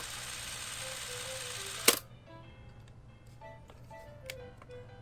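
Super 8 film camera running at 18 frames per second, its steady mechanical whir and ticking continuous and close throughout, with a sharp click near the two-second mark.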